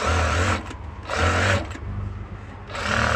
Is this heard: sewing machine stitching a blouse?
yes